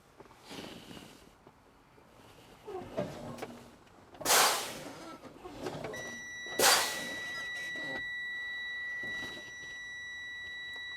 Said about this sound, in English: Warning light and buzzer came on at 74 psi.